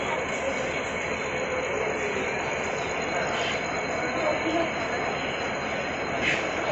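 The Nagaland Express rolls into Jorhat Town station, a steady broad rumble of rail cars and wheels at close range filling the whole stretch, with faint crowd voices from the platform underneath.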